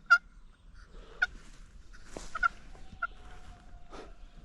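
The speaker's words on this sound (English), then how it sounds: "It's a young rooster. It sounds like a sad dog." A young rooster in rural Georgia gives a few short, strained, honking calls at mid distance, with quiet pauses and faint background noise between them.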